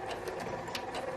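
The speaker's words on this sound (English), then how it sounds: "then I'm going to do a couple of stitches" A sewing machine stitches a fabric face mask, running in a steady quick mechanical whir with rhythmic needle clatter, close and fairly quiet, with no talk.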